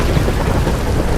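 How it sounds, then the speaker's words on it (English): A thunderstorm breaks with loud, continuous rumbling thunder and heavy rain, a dense low roar that fills the whole short stretch with no voices. "All at once, the storm broke."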